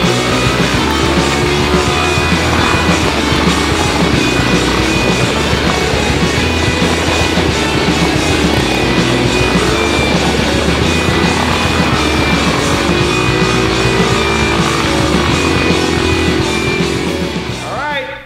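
A lawn mower engine runs steadily and loud throughout as the mower drives and reverses, a constant close rumble with rising and falling pitch as it moves, fading slightly at the end.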